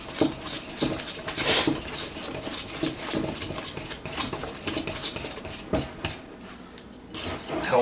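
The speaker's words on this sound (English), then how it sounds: "grab our dough whisk and start working it with the dough whisk" A dough whisk stirs and scrapes through moist, sticky potato bread dough in a bowl, giving a steady run of close, dense scraping and squelching strokes with a few sharper knocks against the bowl.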